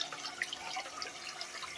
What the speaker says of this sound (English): I'm adjusting the water flow